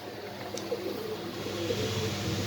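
Pigeons coo softly at a pigeon farm, low murmuring calls faint under a steady background hum, with no talk.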